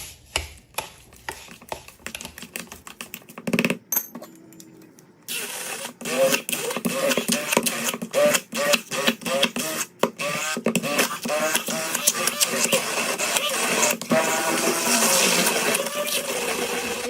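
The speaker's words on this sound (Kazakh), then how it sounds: "Одан кейін жақсылап блендердің көмегімен езіп аламыз" A blender mashes cottage cheese for a quilted pie, starting with a few short intermittent pulses and then running steadily with a loud, continuous whirring drone that varies slightly in pitch.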